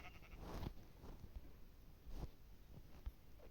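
Goats bleat a few times, short nasal cries rising over a steady background hum, with no one talking.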